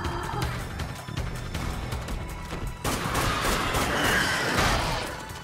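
A launch rifle fires in the zombie shooter Dead Nation on PS4, with rapid bursts of loud game gunfire and crashing impacts that build into a dense, sustained barrage in the second half.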